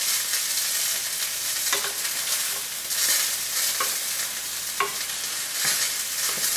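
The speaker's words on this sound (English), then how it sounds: "we definitely have a good hot skillet going on" Onions, peppers and mushrooms sizzle steadily in a hot skillet, a dense continuous frying hiss broken by a few light clicks of stirring, close and fairly loud with no talking.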